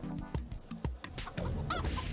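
Chicken clucks from the Shrek: Extra Large game on Gamecube, a run of short repeated fowl calls close up and fairly loud, with game sounds mixed underneath and no one talking.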